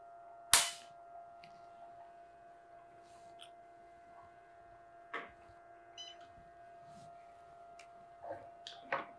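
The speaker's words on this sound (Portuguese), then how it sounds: "E vamos efetuar um disparo ao lado desse primeiro." An Nd:YAG Q-switched laser fires a single shot at low energy, making one sharp, crisp snap against a quiet electrical hum, followed by a few softer clicks.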